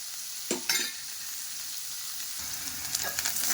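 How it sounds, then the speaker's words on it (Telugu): Onions and green chillies frying in a pan: a continuous bright sizzle with a few louder stirring scrapes near the start and end, close by and without speech. "ఉల్లిపాయ అనేది మనకి కలర్ చేంజ్ అయ్యేదాకా ఫ్రై చేసుకోండి"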